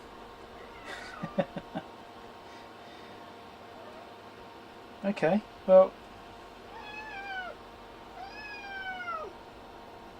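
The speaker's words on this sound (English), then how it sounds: "the cat decided to come and join in." A cat meows several times beside a Keithley 237 source-measure unit under repair, with rising and falling calls, some short and sharp, others drawn out, close by in a quiet room, and someone says a few words early on.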